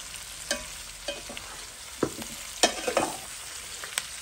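Onions roasting in a pan, with a soft steady sizzle and occasional scrapes and knocks of a utensil stirring, close and fairly quiet.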